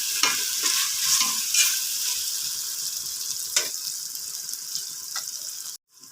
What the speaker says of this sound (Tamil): இஞ்சி பூண்டு பேஸ்ட்டும் சேர்த்து வதக்கியாச்சு